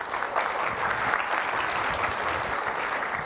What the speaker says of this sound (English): A little applause for my helpers.